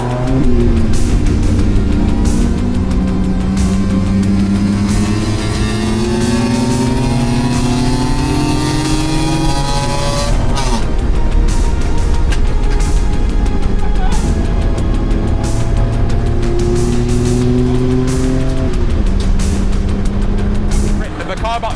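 A tiny hatchback race car in a 24-hour endurance race on a circuit, engine droning loud and continuous from inside the cabin, pitch rising and falling through gear changes across the lap.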